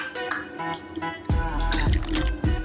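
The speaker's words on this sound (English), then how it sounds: "We're going to do 1 tablespoon or a ½ ounce of lime juice." Lime juice splashes into a mixing glass, first as small drips and trickles, then a louder close pour with a few sharp splashy bursts.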